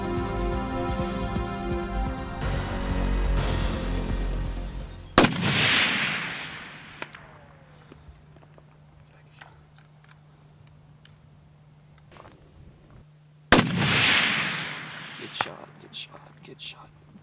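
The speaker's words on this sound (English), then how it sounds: "Mel takes his time and places 2 incredible shots on this bull." Two loud rifle shots from hunters firing at a bull in the outback ring out about eight seconds apart, each with a long echoing decay across open country, after a stretch of background music.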